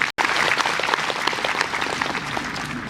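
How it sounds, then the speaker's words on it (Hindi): A congregation applauds at a Catholic priestly ordination in Demdima parish, Jalpaiguri: steady, dense clapping from many hands fills the whole stretch after a brief cut at the start, loud and close with no talk. "और हम सभी को जोरदार ताली बजाएं।"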